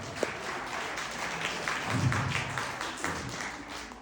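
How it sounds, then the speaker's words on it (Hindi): Audience applause, a steady wash of clapping across the whole stretch at moderate level, swelling slightly in the middle with no talk over it. "इनके लिए एक जबरदस्त ताली बनती है यार"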